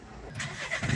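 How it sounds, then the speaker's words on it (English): A Renault Megane 3 diesel engine cranks briefly and catches, rising into a rough running rumble, close by. "We start the engine."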